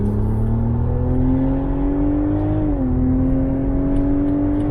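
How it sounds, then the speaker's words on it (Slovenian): A BMW engine revs steadily as the car pulls away onto the road, a continuous loud drone that climbs gradually in pitch, dips briefly, then keeps climbing, with no talking over it. "Un tipičan BMW zvok."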